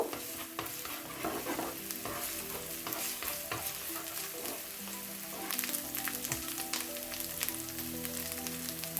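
Ginger and garlic paste frying in oil in a pan, a soft, steady sizzle with frequent close stirring scrapes, fairly quiet and without talk.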